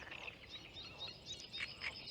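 Frog croaking played back as a recording from a phone beside ponds, faint repeated high chirping croaks over a quiet outdoor background.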